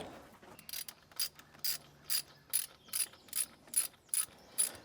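A ratchet clicks in a steady run of about ten crisp, evenly spaced bursts as a bolt is driven in on the AC compressor of a 2015 Toyota Highlander. The work is close, with no talking.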